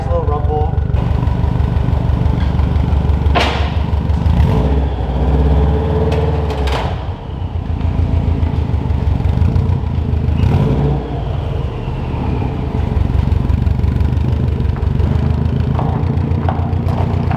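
A Subaru WRX engine with an HKS Hi Power aftermarket exhaust idles with a deep, throaty rumble, steady and close, with a few brief louder blips and some talking over it.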